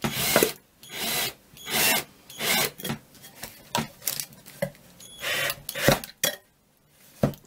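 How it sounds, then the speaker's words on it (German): A screwdriver drives small screws through the base of a handmade craft organizer, heard as repeated close grinding and rasping bursts separated by short pauses, with no talking. "Und dann befestigen wir uns die einfach durch den Boden durch und schrauben uns die fest."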